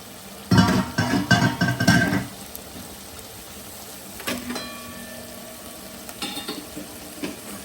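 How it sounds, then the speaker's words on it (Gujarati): Spinach greens land in hot masala frying in oil in a pan and are stirred, giving a loud burst of sizzling and scraping for about two seconds, then quieter intermittent stirring and faint clinks. "આપણે હવે એની અંદર આપણે ભાજી નાખી દઈશું"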